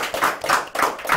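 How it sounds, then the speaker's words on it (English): A brief burst of hand clapping from a small audience welcoming Nick Jonas at a live show, a few close, quick claps in a fast rhythm. "Let's have a round of applause for Nick Jonas, please."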